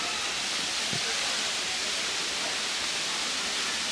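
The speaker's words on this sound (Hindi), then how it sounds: "यहाँ पे है वाटरफॉल." Savri waterfall in Netravali, South Goa, pours in a dense, steady roaring hiss that fills the whole moment, loud and constant with no breaks.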